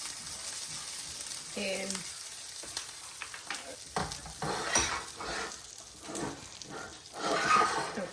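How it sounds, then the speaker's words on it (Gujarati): Curry leaves dropped into hot oil for a mango rice dish, giving a quiet crackling sizzle with scattered pops and brief spatters, while a person speaks a single word. "Now we're going to add curry patta, મીઠો લીમડો"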